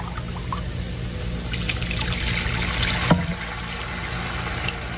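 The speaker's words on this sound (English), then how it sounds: "now we're going to go in with our chicken broth" Chicken broth being poured into a cast iron skillet over a chicken, rice and peas casserole, a steady soft liquid trickle and splash close by, with no talking.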